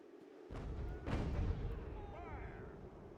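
Cannon fire booms in an American Revolution strategy game, one deep blast rolling out after a softer thump, with distant battle noise and crackling behind it, quiet overall.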